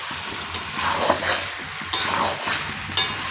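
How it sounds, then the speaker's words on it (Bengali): Mutton sautéing in a pan while being stirred, a soft continuous sizzle broken by several sharp scraping clicks of a utensil against the pan, close and alone without talk. "ধীরে ধীরে ধীরে ধীরে সুন্দর করে কষিয়ে নিতে হবে"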